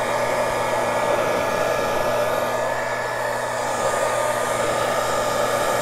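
A hair dryer blows a constant, even whir with a steady high hum, held close while melting wax onto paper, with no voices.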